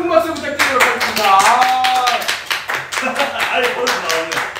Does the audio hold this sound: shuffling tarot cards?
no